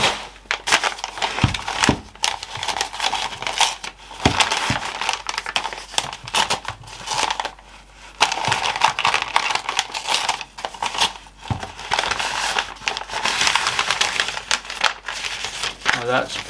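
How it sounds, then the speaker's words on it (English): Crinkling and tearing of packaging as a Barry King maul with a wrapped leather handle is unwrapped, close and continuous rustling with short pauses, and a person talks over parts of it. "why don't we unwrap it like a normal person?"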